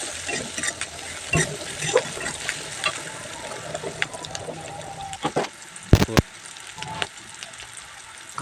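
Chilli, onion, ginger and garlic frying in a pan give a continuous close sizzle and crackle, broken by spatula scrapes and stirring knocks, with a couple of sharp clatters near the end.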